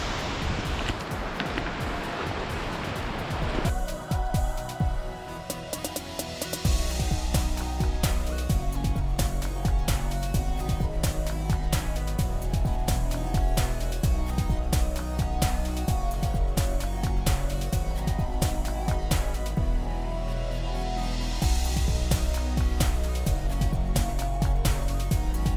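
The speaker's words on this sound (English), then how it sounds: "So we are currently at the Thunder Creek waterfall." Thunder Creek waterfall near Wanaka, New Zealand sends a loud, steady rush of falling water for the first few seconds before music takes over and covers it.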